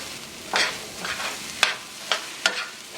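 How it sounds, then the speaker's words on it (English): A pot of okra rice is stirred with a spoon while it cooks on the stove. A few separate scraping strokes come over a soft sizzle, close and fairly quiet, with no speech. "Give it a quick stir just to incorporate everything."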